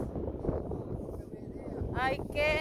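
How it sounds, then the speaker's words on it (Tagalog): Blustery wind at Grimwith Reservoir in the Yorkshire Dales rumbles and buffets the microphone throughout, with voices talking over it and a brighter tonal sound near the end. "it's so windy"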